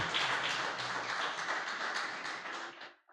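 A church congregation applauding during a worship service, a short, dense wash of many hands clapping together that fades out at the end.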